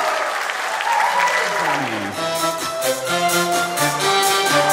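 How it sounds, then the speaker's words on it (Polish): Wedding guests at a Polish reception applaud over loud DJ party music, clapping blending with a bouncy tune and sung tones, steady and close throughout. "wielkie brawa dla wszystkich weselników"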